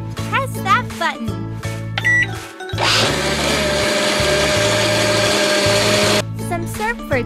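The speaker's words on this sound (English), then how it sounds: "Put it in the blender." A toy-like blender in an ice cream shop video game whirs loudly and steadily for about three seconds between cheerful game music and chirpy effects, and a voice talks in the background.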